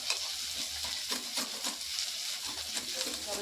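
Sarputi fish fry in hot oil with a constant, close sizzle and crackle, pierced by faint spatters and light pan clinks, with no voices.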